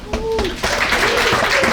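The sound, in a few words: audience clapping at stand-up comedy show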